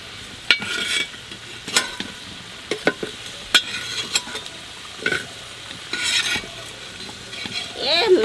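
Potatoes being stirred and fried in a pan while cooking a duck dish, with steady sizzling broken by repeated sharp scrapes and clinks of a utensil against the pan, fairly close and without talk.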